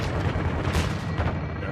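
Called-in artillery strike in Call of Duty: Modern Warfare 2 (2022), dense rumbling booms and blasts rolling continuously for under two seconds, loud and close.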